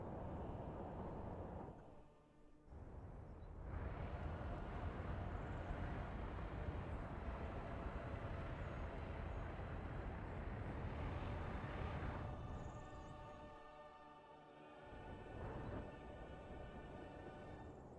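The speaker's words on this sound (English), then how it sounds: "As soon as this train coming from the right side passes our passing track" Train rolling past a passing track in the rail-building game Workers and Resources, a steady broadband rumble that swells and holds for most of the stretch, dipping briefly twice, with tonal hum lines near the end and no talk.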